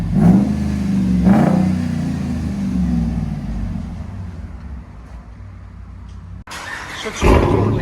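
A 2016 RAM 2500 HD pickup with a 6.4L HEMI V8 and a Vibrant resonator exhaust gives a deep, close engine drone with a couple of rev swells early, settling into a steady rumble before a sharp louder burst near the end.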